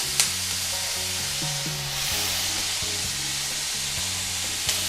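Sliced bell pepper dropped into hot olive oil with browned pear in a pan for Pad Thai, giving a steady loud sizzle and frying hiss with a couple of sharp utensil clinks.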